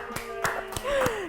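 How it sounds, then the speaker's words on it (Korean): A few sharp hand claps, about four, spaced roughly a third of a second apart in a classroom, with a voice speaking over them. "박수."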